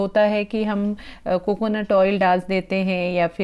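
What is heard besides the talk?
None of the usual background noises is heard.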